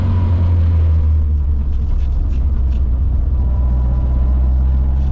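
A Simca rally car at a rallye roars with a loud, deep, continuous engine rumble under hard acceleration, close and steady with no talk.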